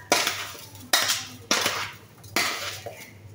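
A spoon stirs sugar into Indonesian fruit soup in a bowl, making four distinct clinking scrapes against the dish at an even pace, close and fairly quiet.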